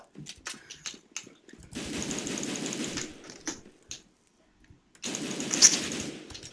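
Rapid automatic gunfire from Counter-Strike: Global Offensive, in several loud bursts of machine-gun-like rattling separated by short pauses, with a long sustained burst near the start and another at the end.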